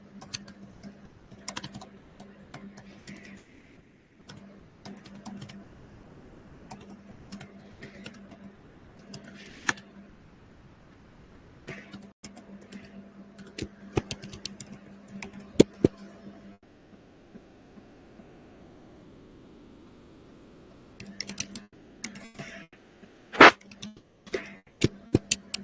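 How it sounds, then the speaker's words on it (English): Someone types a question on a computer keyboard, with bursts of close, crisp key clicks broken by short pauses and a few sharper taps, over a faint low hum. "I'm typing one question."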